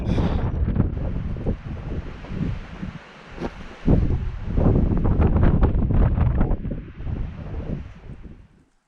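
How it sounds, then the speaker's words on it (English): Strong wind gusts on a high trail in the William O. Douglas Wilderness batter the microphone in heavy, rumbling surges, with a brief lull midway before another powerful blast that fades out. "The period of time between wind gusts like that is getting pretty long."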